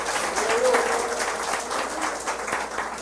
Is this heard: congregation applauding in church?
yes